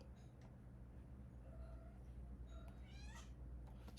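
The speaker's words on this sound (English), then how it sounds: "this kitten is full of beans" A kitten meows several times, short rising cries that stand out over a steady low hum in a quiet indoor space.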